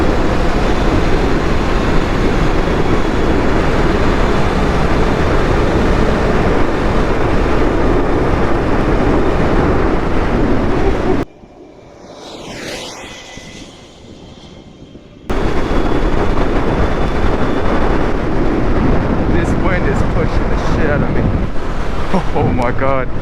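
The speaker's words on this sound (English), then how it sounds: "It's very windy too." Strong wind buffets the microphone on an electric bobber motorcycle at speed on an empty street, a loud, steady roar that drops out briefly midway and then returns just as heavy.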